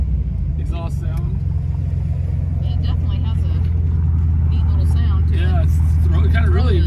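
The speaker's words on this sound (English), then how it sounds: "There's an overpass exhaust sound." Exhaust note of a 1979 Volkswagen Beetle Convertible echoing under an overpass, a loud, continuous low rumble that swells as the car moves, with people talking over it.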